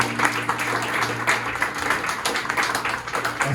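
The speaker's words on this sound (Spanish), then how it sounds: "Den un aplauso a nuestro Señor." A church congregation applauding together, a dense, steady wash of clapping that holds for a few seconds at moderate loudness.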